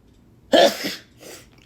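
A single sharp sneeze bursting out close to the microphone, followed by a softer trailing breath, otherwise quiet.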